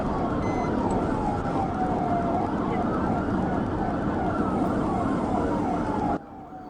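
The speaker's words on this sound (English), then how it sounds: "the sirens are on, so it's definitely I would definitely consider this a wild chase" A police siren wails continuously in a fast, repeating up-and-down pattern over heavy road noise during a car chase after a Jeep Wrangler, loud and close, ending abruptly.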